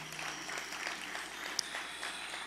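A seated audience at a secondary school graduation claps for the staff, a steady wash of applause at moderate distance with one sharper clap standing out, no voices over it.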